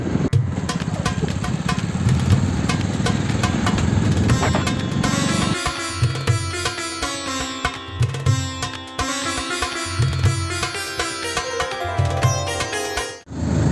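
A motorcycle engine labours up a steep hill road in the mountains during a pilgrimage ride, droning steadily and close with a rough, pulsing throttle that shifts midway, with no talking over it.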